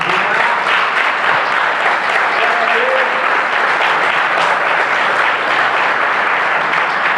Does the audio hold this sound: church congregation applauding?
yes